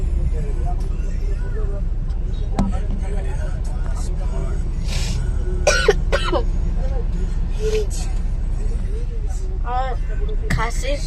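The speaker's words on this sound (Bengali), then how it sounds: "খাসি সর্দি খুব জোরে" A person coughs and clears their throat several times while sitting on a bus stopped in traffic, with a low engine rumble underneath and speech nearby.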